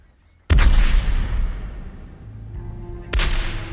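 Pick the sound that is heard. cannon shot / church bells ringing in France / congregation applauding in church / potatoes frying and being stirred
cannon shot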